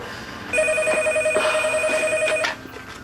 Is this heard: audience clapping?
no